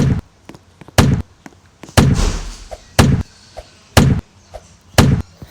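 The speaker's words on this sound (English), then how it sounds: "You have to be really careful in getting in and out because cannons just explode you back" Cannons in the Sprunkiville cart ride video game boom out six loud, sharp blasts at roughly one-second intervals, each a close, punchy burst with a brief decay and faint pops between them.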